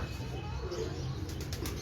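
Pigeons flap their wings on a rooftop, a short burst of fluttering over steady outdoor background noise.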